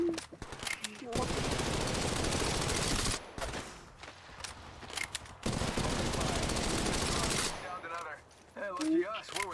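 Two long sustained bursts of automatic weapon fire in an Apex Legends Mobile battle royale match, loud and close, separated by a short gap, with game voice lines and other sounds around them.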